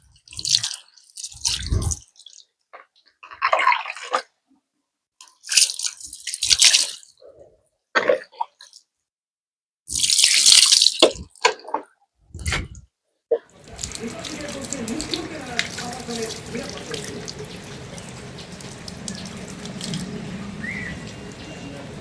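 Tap water runs steadily into a sink while dyed hair is rinsed, a continuous splashing flow that starts after a stretch of short clattering sounds and handling noises.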